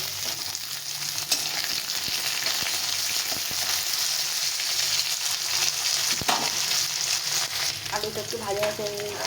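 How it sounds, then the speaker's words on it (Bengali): Potato pieces fry in hot oil with already-browned ginger, giving a steady, close, loud sizzle throughout, broken by a few sharp spatula scrapes and clicks against the pan. "আলুটাকে একটু ভেজে নিতে হবে।"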